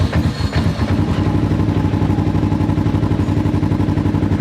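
Loud, close engine of a car just after startup, a deep rumbling exhaust idling steadily with dense low-end throb and a brief rougher burst right at the start; no talking.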